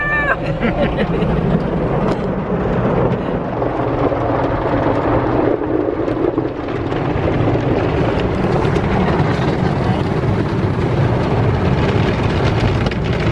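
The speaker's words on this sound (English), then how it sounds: "That sounds like a really bad storm. Yeah. The hailstones." A dense, roaring wash of noise from a heavy hailstorm, hailstones pounding down, loud and continuous throughout with no break.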